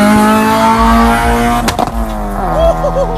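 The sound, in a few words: modified Honda car exhaust revving and popping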